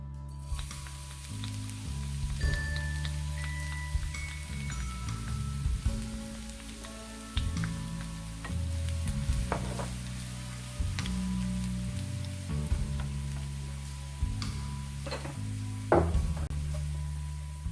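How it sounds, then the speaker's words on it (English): Chopped garlic fries in oil in a pan, a steady soft sizzle and crackle that carries on throughout, close by, with low tonal music underneath. "Now that the garlic is heating through and frying"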